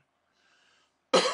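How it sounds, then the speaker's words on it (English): One sharp, loud cough bursts out close to the mic after a near-silent moment with faint tonal noise. "Hold on. Coughing."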